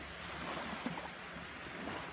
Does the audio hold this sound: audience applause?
no